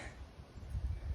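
Steady low rumbling wind buffets the microphone, gusting harder toward the end with a faint airy hiss above.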